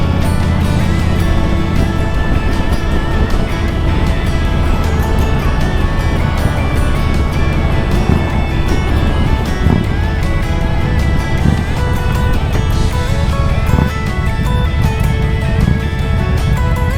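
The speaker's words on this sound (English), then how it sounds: "That wind is horrific." Strong wind buffeting a motorcycle rider on a winding road, a loud, continuous roar mixed with engine drone, constant throughout with no talk.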